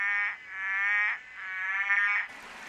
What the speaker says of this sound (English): Hundreds of red-eyed tree frogs were calling on the mountainside near the tent.